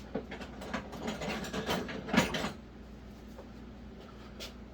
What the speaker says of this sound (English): I'm going to get a big screwdriver and see if I can pry this out.